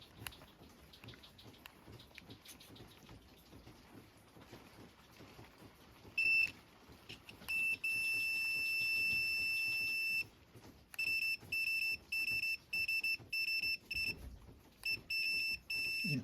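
Multimeter continuity tester emitting a thin electronic beep tone during troubleshooting of a boat's electrical wash down pump circuit; one brief chirp, then a long steady tone followed by a string of short on-off beeps, fairly quiet with no talk.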